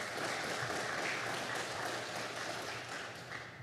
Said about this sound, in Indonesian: Kita berikan aplaus buat perusahaan.